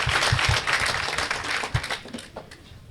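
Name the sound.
audience applause at certificate ceremony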